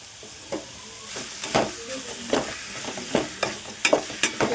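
Chicken and onion frying in oil: a close, crackling sizzle with repeated rhythmic stirring scrapes and clanks of a spoon against the pan, no voices.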